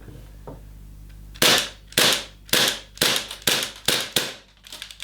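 A rapid series of seven or eight sharp, loud pops from a Beretta PMX Umarex/KWA gas blowback airsoft gun, evenly spaced, with no talking.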